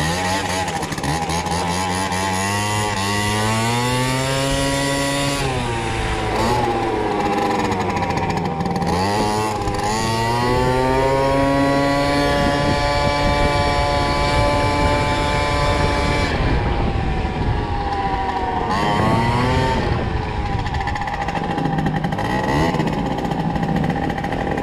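Aprilia SR50 scooter engine, set on rollers, revs hard and close, its buzzing two-stroke pitch sweeping up and down several times under repeated throttle, with a strained, loud whine throughout.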